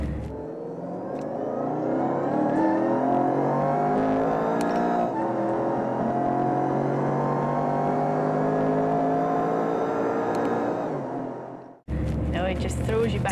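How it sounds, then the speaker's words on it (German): A Mercedes SLR McLaren supercar accelerates hard, its engine note rising steadily through a long pull heard from inside the car, then dropping off before briefly resuming; a voice talks over it. "Die Kraft und der Sound des Motors sind absoluter Wahnsinn."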